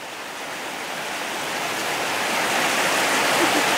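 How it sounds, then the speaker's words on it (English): Rushing water of Rainbow Stream pours past a bridge crossing in a steady, loud broadband roar that swells slightly louder over the few seconds, with no talking. "A lot of water coming down that stream right now."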